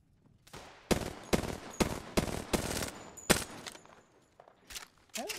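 Bursts of gunfire in the shooter game Apex Legends, several sharp volleys in quick uneven succession, loud and close, with faint footsteps and scraping between the shots and no talk.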